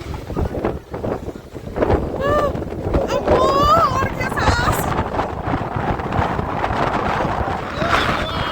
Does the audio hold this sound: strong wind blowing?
yes